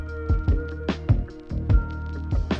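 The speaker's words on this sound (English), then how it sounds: "I've added the string section in on the second half of the verse, but I've pitched it down an octave" Sampled string section pitched down an octave, playing low within a hip hop beat with punchy drums hitting underneath. Close, with no voices.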